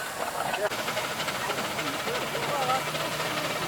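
A steam engine chuffing steadily at a steam rally with a constant hiss and fast rhythmic puffs, heard from a moderate distance over outdoor background noise.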